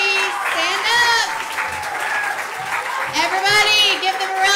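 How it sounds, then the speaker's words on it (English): An audience applauds for the teachers at a Vacation Bible School gathering: steady clapping throughout, with a loud speaking voice and some children's voices over it. "Everybody, give them a round of applause"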